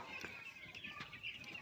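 Young chicks on a small chicken farm peep in quick, repeated high calls on a cold night under many lights, with a steady faint hiss and no talking.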